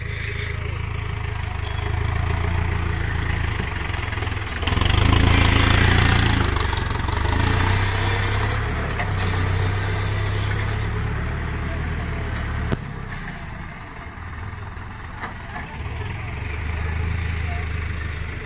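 A tractor engine straining to pull a sugarcane trolley stuck in a field, with JCBs also on site: a low, steady, laboring drone that swells in the middle, with voices talking and shouting over it.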